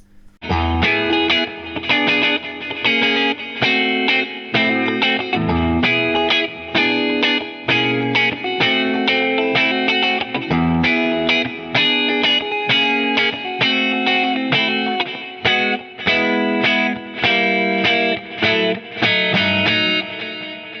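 A Gibson Goldtop Les Paul with Seymour Duncan Pearly Gates pickups plays a driven, mid-range heavy tone with steady strummed chords and slight distortion, loud and continuous without any talking.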